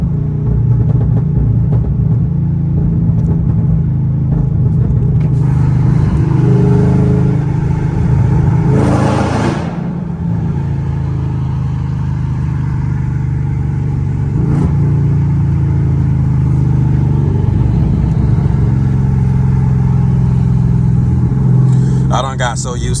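Loud cammed car engine at night in a vehicle nicknamed the Reindeer, with paddle shifting: a deep, steady rumbling drone runs throughout, swelling with revs, while someone talks over it much of the time.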